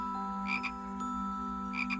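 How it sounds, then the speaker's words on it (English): Jungle frogs croak in short raspy pairs, two clusters a little over a second apart, over a steady drone of insects and a continuous low hum. "Frogs croaked."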